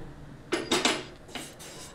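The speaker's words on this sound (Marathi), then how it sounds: "त्यावर तवा ठेवला।" An iron tawa griddle is set down on a gas stove, giving a few close metallic clanks and knocks in quick succession, then a lighter clank after a short pause.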